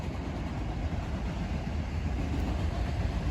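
A train passing near an outdoor winter disc golf course, a steady broad rumble and rolling rail noise holding at an even level throughout.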